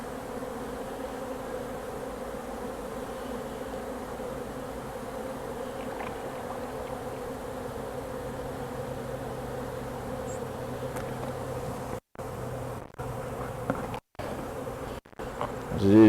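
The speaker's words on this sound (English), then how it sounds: "these bees are all over the feeder, having just put a little bit in there" Honey bees swarm over an open feeder near their hive, a steady dense buzzing hum that holds throughout with a few brief dropouts near the end, no voices.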